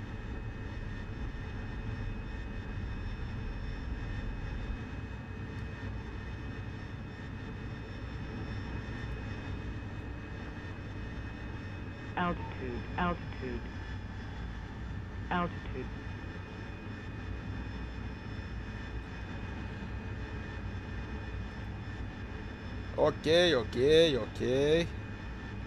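Steady drone of an AV-8B Harrier jet in the DCS flight simulator, a constant engine hum across the whole span with brief voice bursts near the middle and a short spoken word toward the end.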